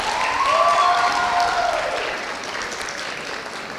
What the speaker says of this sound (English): I'm paying those young ladies there to applaud.